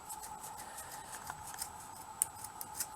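Scissors snipping through fabric for a shabby-chic pumpkin craft, a quick series of close, crisp cutting clicks with a few sharper snips, fairly faint over a quiet room with a steady background hum.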